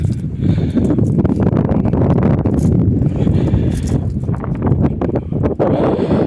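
Loud, constant wind buffeting the microphone outdoors while measuring a homemade cultivator, a heavy low rumble with gusty surges throughout and no clear voices.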